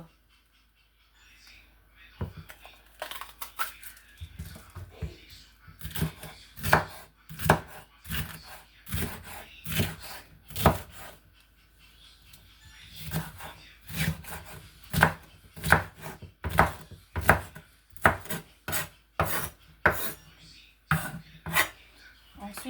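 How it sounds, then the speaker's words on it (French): A knife chops food into small square pieces on a board, close and clear, in irregular bursts of sharp thuds with brief pauses in between; no one speaks. "Que je vais découper en petits morceaux en carré comme ça."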